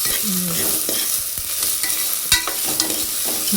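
Sprouted horse gram frying in hot oil while being stirred, a steady loud sizzle broken by frequent scraping and clinking strokes of a spoon against the pan.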